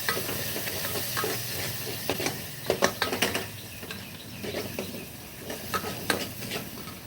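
Rajma rice with homemade biryani masala and coriander powder is stirred in a sizzling pan, with a constant fry hiss broken by irregular scraping clatters of the spoon.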